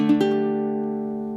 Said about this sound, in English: The chord,